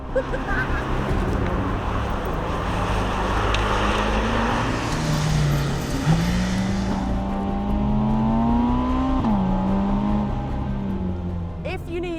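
Ferrari 849 Testarossa Spider engine pulling hard, a rising, gear-stepped drone that climbs, dips at a shift and climbs again, heard from close by with road and wind roar around it.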